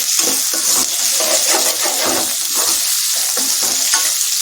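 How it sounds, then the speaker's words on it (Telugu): Okra and potato fry loudly in a close pan, a dense continuous sizzle broken by quick scraping stir strokes in an uneven rhythm. "ఇది కూడా కొంచెం ఫ్రై అవ్వాలి"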